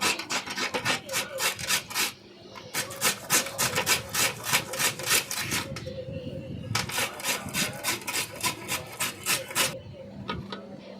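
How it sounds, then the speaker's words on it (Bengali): Raw potato being rubbed across a hand grater for a sweet potato barfi, a fast rhythmic rasping in quick bursts of strokes with brief pauses between runs, close and loud with no talking. "এরপরে আলুটিকে ঘষে নিলাম।"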